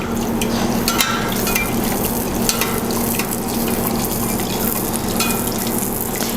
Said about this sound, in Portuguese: agora nós vamos colocar eles na fritura